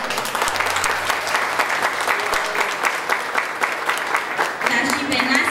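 Guests at a christening stand and applaud the parents, steady dense clapping filling the room for several seconds with voices murmuring beneath it.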